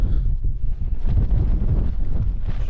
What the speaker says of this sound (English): there's a couple of little gusts, but nothing to worry about.